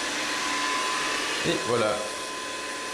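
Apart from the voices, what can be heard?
Samsung Navibot robot vacuum cleaner running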